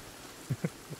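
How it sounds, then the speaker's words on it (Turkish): Heavy rain in the video game The Forest makes a faint, steady hiss, with a few soft, dull patters rising briefly above it. "Yoğun bir yağış var."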